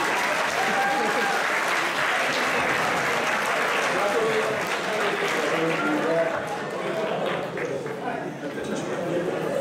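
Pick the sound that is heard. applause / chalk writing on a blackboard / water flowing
applause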